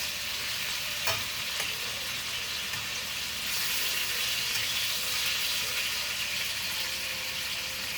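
Beef pieces browning in a pan crackle and sizzle loudly and steadily up close, with scraping stirs as they are turned over and over, and no talking.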